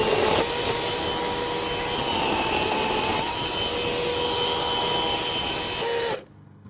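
Greenworks 20312 cordless chainsaw cutting through wood, a loud, steady high motor whine with chain rasp held for about six seconds before cutting off abruptly to near silence.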